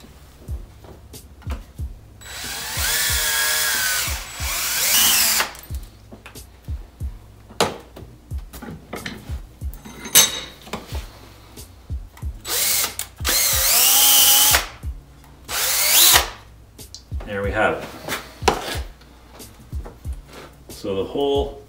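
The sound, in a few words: power drill drilling a hole in an actuator for a pipe plug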